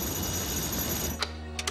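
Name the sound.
telephone ringing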